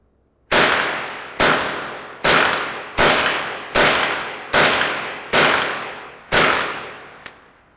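Eight rapid sharp gunshots from a Remington Nylon 66 .22 semi-automatic rifle, each a loud crack with a short decaying tail, fired in quick succession about every half second, with a faint click at the end.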